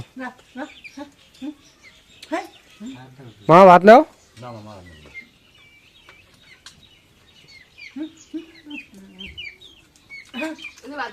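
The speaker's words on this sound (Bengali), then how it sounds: "আচ্ছা মুরগি গেল মুরগি গেল" Chickens cluck and chirp around food on the ground, short bursts coming and going close by while people talk over and between them.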